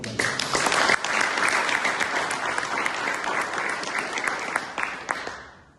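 A church congregation bursts into sustained applause during a sermon, many hands clapping together loudly for several seconds before the sound tapers off toward the end.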